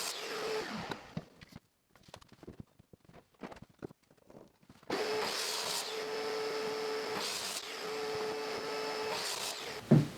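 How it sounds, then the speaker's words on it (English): A mounting saw squares off the edge of a plywood shelf board, cutting in two loud, sustained bursts after a stretch of quieter clattering and handling noise. "I've got the mounting saw set up here. We're going to quickly square off one edge."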